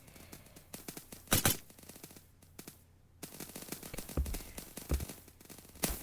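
Machine gun fire in a Roblox shooter game rattles in sharp bursts and scattered single shots, with loud clustered volleys separated by brief quiet gaps.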